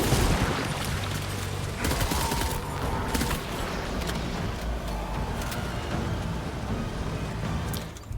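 Continuous dense rumble of gunfire and explosions in the video game Death Stranding 2, a steady loud wash of shots with occasional sharper cracks and no talking.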